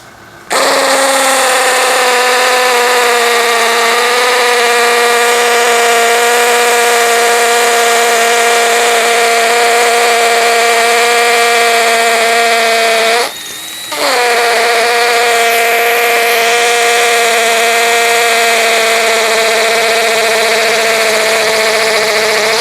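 A DCA ADJZ2035i cordless impact drill runs loud and close in one long steady whine, its motor pitch holding constant, with a brief drop and stutter midway before it resumes and keeps spinning to the end.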